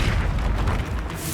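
Fiery Confringo spell blast cast in the video game Hogwarts Legacy: a loud, dense booming burst with heavy rumbling low end that fills the whole short moment.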